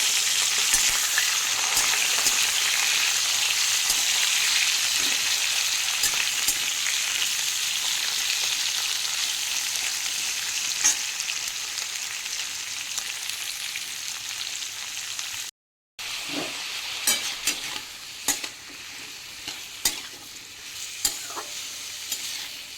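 Potatoes and pointed gourd sauté in hot oil with five-spice seeds, a steady close sizzle with frequent scraping stirs, briefly cut off near the end before the frying resumes.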